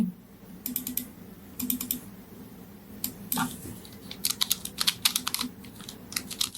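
Typing on a computer keyboard during photo editing, close clicky keystrokes in quick bursts separated by short pauses, with a louder clack near the middle.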